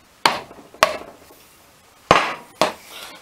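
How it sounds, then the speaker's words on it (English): A screwdriver is hammered into a corroded OMC Cobra outboard lower unit soaked in Seafoam, giving four loud, sharp metallic strikes spaced irregularly, each ringing briefly before fading. "I'm going to put a third screwdriver in"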